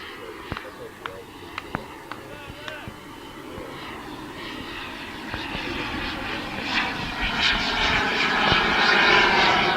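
A radio-controlled model jet airplane flies overhead at a club fun fly, its engine roar swelling steadily louder and closer over about ten seconds, with scattered sharp clicks early on and people speaking in the background.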